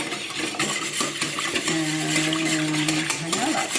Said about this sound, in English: you really want to mix that mayonnaise well in there